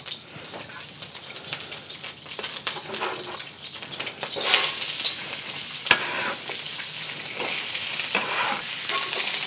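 Zucchini and onions stir-fry in a pan over medium heat with ground beef and vegetable oil, a continuous close sizzle broken by scraping and stirring strokes, louder bursts midway, no talking.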